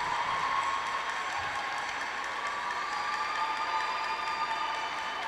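Sustained audience applause with some crowd noise fills an ice rink after a synchronized skating team's short program at a junior international competition in Budapest, steady and fairly distant throughout.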